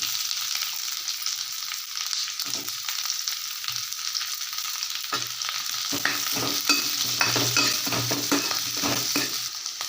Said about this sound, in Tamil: இப்போ வெங்காயத்தை இதில் போட்டுக்கலாம் வெங்காயம் எல்லாத்தையும் இதில் இப்படி போட்டுக்கலாம்